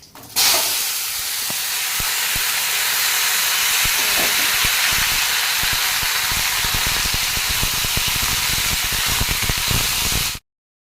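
Chopped watermelon rind is poured into hot tempering oil and erupts into a loud, dense, continuous sizzling hiss that holds steady at close range for about ten seconds, then cuts off abruptly.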